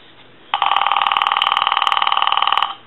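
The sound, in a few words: AT&T 530 Trimline telephone ringing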